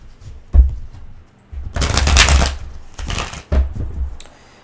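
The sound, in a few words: shuffling tarot cards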